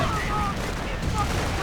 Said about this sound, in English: Panzergrenadiers are moving in, gunning down the riflemen.